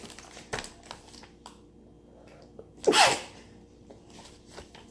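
A single sharp human sneeze bursts out midway, loud and close, against a quiet indoor background with faint handling rustles.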